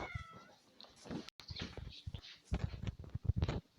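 A cat meows several times nearby, drawn-out plaintive calls mixed with shorter chirps, fairly loud and close, with scattered household noise between them.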